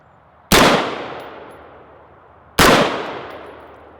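An 11.5-inch AR pistol fires two loud, sharp gunshots about two seconds apart, each a close crack followed by a long echoing decay outdoors, with no talk.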